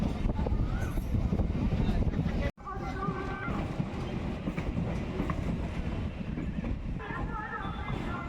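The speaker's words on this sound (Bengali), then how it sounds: "ফাইনালি আমাদের ট্রেন ডায়মন্ড হারবার প্ল্যাটফর্মে ঢুকছে" Local train pulling into Diamond Harbour station platform, a loud rumbling run with clattering wheels and wind buffeting. Voices murmur faintly in the background.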